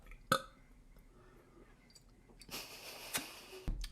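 A streamer lets out a short sharp burp, then after a quiet stretch a longer, rougher belch follows, ending in an abrupt click.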